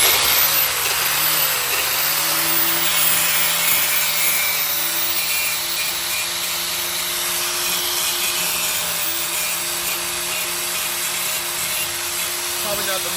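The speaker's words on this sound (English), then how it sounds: "I'm gonna use my grinder, and I'm just gonna shave a little bit of this PVC so that that thing will fit." A power grinder shaves down PVC pipe to fit a trailer light elbow arm, giving a continuous loud whine with a steady high tone that shifts slightly as the tool bears on the plastic.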